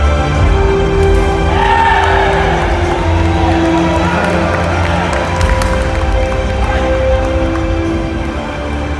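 Crowd noise and clapping fill a sepak takraw final at the Pattaya Cup as teams and referees are welcomed, a steady dense roar of applause and cheering with voices mixed in throughout.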